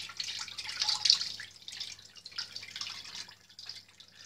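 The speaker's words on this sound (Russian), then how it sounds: "придерживаем рукой и сливаем" Thin syrup from cooled apricot jam trickles and drips as it is drained off, a soft, close liquid pouring with small splashy bursts, steady then tapering near the end.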